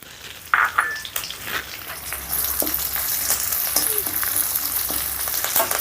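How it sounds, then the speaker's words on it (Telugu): Garlic cloves, cumin seeds, dried red chilli pieces and curry leaves hit hot oil for cumin rice, sparking a loud crackling sizzle that swells and holds steady, close up with no talking. "ఇప్పుడు ఈ వెల్లుల్లి రెబ్బలు వేసిన వెంటనే ఒక టేబుల్ స్పూను జీరా కూడా వేస్తున్నాను అలాగే నాలుగు ఎండుమిర్చి ముక్కలు"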